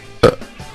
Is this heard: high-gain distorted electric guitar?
no